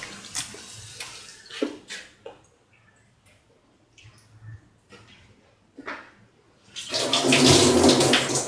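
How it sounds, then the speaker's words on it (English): Soaked and washed rice poured into a pot of boiling water for a potato and ivy gourd rice dish, a sustained watery rush near the end after scattered small clinks and stirring sounds. "Now put in the soaked and washed rice"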